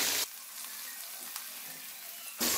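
Garlic and mixed vegetables fry in a hot pan for spaghetti, giving a steady, even sizzle that is close and moderately quiet, with no talking over it.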